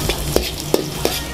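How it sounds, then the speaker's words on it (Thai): Garlic stir-fries in pork lard at the start of Hainanese-style dark soy sauce fried rice, a close, constant sizzle punctuated by three or four quick spatula knocks against the pan. "ข้าวผัดให้อร่อยต้องใช้สูตรน้ำมันหมูนะครับเดี๋ยวเราผัดกระเทียมก่อน"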